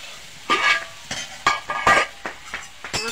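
Potatoes and paneer are stirred in a hot pan, with a series of separate scraping and clinking strokes of a utensil against the pan over a faint sizzle, fairly close.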